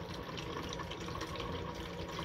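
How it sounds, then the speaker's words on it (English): Water pours steadily into a container, a continuous close splashing rush with no break and no talk. "I'm gonna go pour the water."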